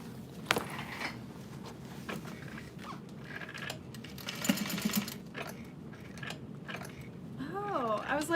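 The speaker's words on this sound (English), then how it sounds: "we're gonna sew this shut" A sewing machine stitches a vanity bag shut with a steady, close mechanical whirr that rises and falls in short runs, while a person talks over it.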